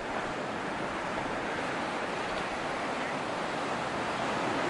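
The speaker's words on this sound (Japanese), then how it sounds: "ものすごい綺麗な海ですよ。" Continuous soft wash of ocean waves on a beach in a cove on Palawan Island, Philippines, an even hiss and rumble without breaks, moderately distant and fairly quiet.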